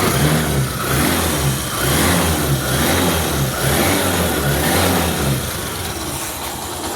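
A Yamaha YTX motorcycle engine runs after being kick started, a loud, close, even mid-pitched putter with rhythmic pulses that eases slightly toward the end, no voices.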